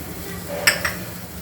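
Spices and chopped tomato are stirred in a pot for Gujarati masala khichadi, giving two quick, light metallic clinks of a spoon against the pot over a soft, steady background hiss.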